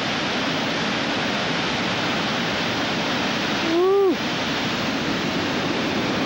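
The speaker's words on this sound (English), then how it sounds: "Look at massive water flow." A big river surging through a rocky gorge at the Othello Tunnels roars as a steady, loud wash of rushing water, unbroken from start to finish, with a brief whistle-like sound rising over it near the middle.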